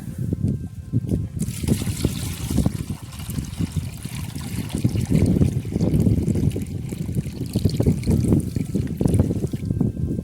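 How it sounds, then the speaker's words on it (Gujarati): Water from a bucket pours continuously into a bird water dish on a farm, a steady splashing gush lasting several seconds, close and fairly loud. "હવે એમાં આપણે આ ડોલ પાણીની ભરીને નાખી દઈએ."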